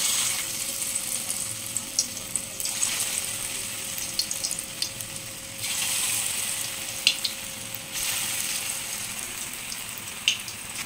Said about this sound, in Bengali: এবার তেলে আমি ভাজবো